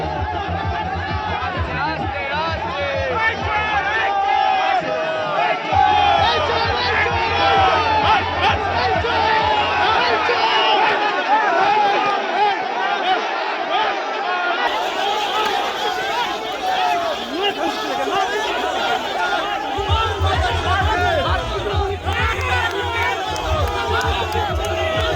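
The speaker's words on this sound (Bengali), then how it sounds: "উত্তেজিত বিজেপি কর্মী সমর্থকরা ডিম ছোড়ে, দেওয়া হয় চোর চোর স্লোগান" Angry BJP supporters at a rally chant 'thief, thief' slogans at a crowd, a dense roaring mass of shouting voices that holds steady throughout, with a deep thumping DJ beat pulsing underneath at times.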